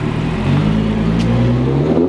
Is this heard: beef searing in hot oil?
no